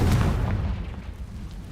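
A Confringo spell explodes in the Hogwarts Legacy video game: a loud, deep blast rumbles and slowly fades away over about two seconds.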